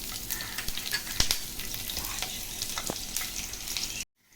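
Green chilies frying in hot oil for egg fried rice, a dense crackling sizzle punctuated by sharp stirring clicks, close and steady before cutting abruptly to silence.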